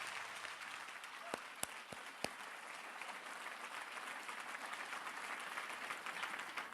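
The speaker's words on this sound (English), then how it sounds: "Give a round of applause." A crowd applauds steadily, with a few sharp individual claps standing out early on, the clapping continuing evenly throughout.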